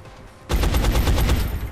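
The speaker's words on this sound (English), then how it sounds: "Shot failed to connect." A rapid burst of automatic gunfire in XCOM: Enemy Unknown during an alleyway battle, erupting suddenly after a quiet moment and rattling loud and close for over a second with no talk.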